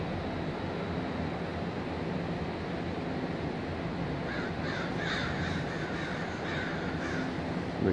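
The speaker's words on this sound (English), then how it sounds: "crows roosting for the night, thousands of them." Thousands of crows roosting at night in downtown Portland, Oregon, their distant caws rising in scattered bursts over a steady wash of city background noise, faint overall.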